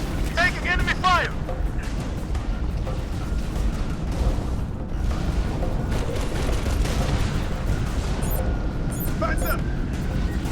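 Continuous gunfire and explosions rumble through a cooperative battle in the video game Halo Reach, with soldiers shouting over the dense, loud combat noise.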